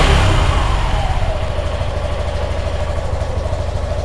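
A motorcycle engine idles steadily at about 1500 rpm during lockdown vehicle maintenance, a loud, continuous low rumble with a slight fluctuation and no talk over it.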